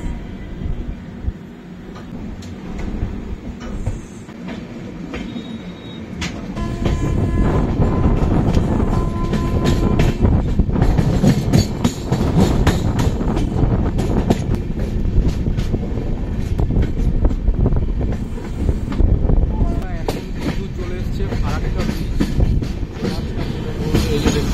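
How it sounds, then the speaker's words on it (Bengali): Sealdah Humsafar Express pulling away from Farakka Junction, starting with a quieter rolling rumble that swells after a few seconds into loud, steady train noise with rhythmic wheel clatter and occasional squeal, continuing close and unbroken. "এখন এই ফারাক্কা জাংশন থেকে এই ট্রেনটি রওনা দিল"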